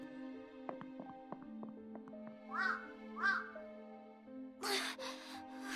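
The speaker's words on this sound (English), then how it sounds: "The crows that chased me off were now rummaging through the garbage like they owned the place." Crows in a video game rummaging through garbage give two loud, harsh caws over a sustained musical drone and plucked notes, followed by a burst of noisy flapping or rustling near the end.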